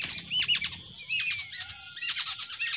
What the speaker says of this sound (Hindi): देखिए ये परिंदों के चहचहाने की आवाज़